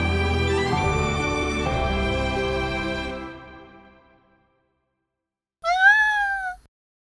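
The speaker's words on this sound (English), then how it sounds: "She found a tiny kitten. It was crying all alone." A tiny kitten cries with a single rising and falling meow, short and clear, coming alone after a long stretch of music fades into silence.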